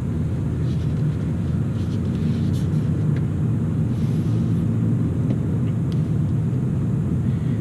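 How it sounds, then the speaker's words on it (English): A 2018 Toyota Camry SE's engine and exhaust under light throttle give a steady, smooth interior rumble at moderate level throughout, with no distinct gear-shift event and no voices. "I wanted to just kind of give a little bit of gas so you just hear the shift and hear the engine and all that"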